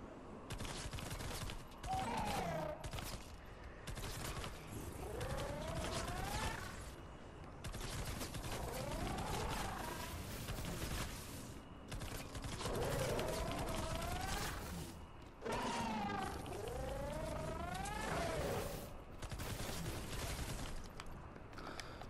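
An old gun fires in Fortnite in repeated rapid bursts with mechanical clacks and creaks between volleys, steady and fairly loud over the whole stretch, with almost no talking.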